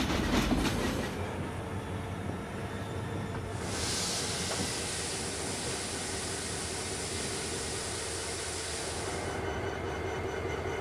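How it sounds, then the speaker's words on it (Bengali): Tista Express inter-city train idling on the rails between Dhaka and Joydebpur, a steady mechanical rumble with hissing and faint wheel clatter, continuous and fairly close with no voices. "সামনের দিক থেকে একটা ট্রেন আসছে, যার কারণে আমাদের প্ল্যাটফর্মে কিছুটা সময় অপেক্ষা করতে হবে।"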